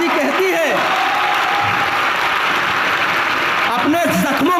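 An audience at a Hindi comedy poetry show breaks into loud, sustained applause, dense clapping with a few cheers, and voices come through under the clapping near the start and end.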